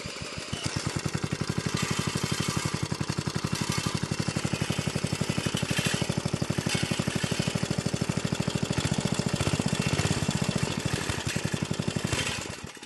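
A small gasoline engine on a homemade off-road scooter runs rough and untuned, its carburetor bowl leaking. It gives a loud, close, fast chugging beat that holds steady for the whole stretch, with no voices.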